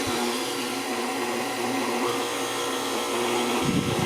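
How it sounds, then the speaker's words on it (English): An electric stand mixer runs steadily on low speed, churning whole wheat bread dough with a continuous motor whir; near the end the tone shifts as the load changes. "I just don't want to put it all in at once and burn out my mixer. Nope, just on like low."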